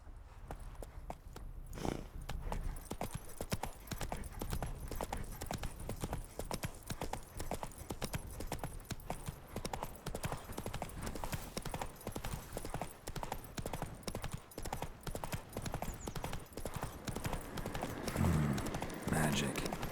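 Horse hooves clip-clopping in The Witcher 3: Wild Hunt, a steady rapid trot of close, even hoofbeats running throughout, with a voice speaking briefly over it.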